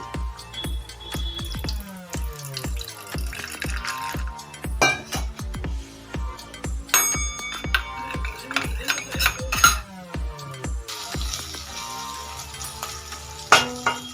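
Chili fish made with rui being stirred and fried in a pan: repeated metallic clinks and scrapes of a spoon against the pan over a soft sizzle, irregular and close, with no talking.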